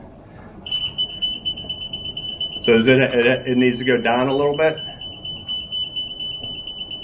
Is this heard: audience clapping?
no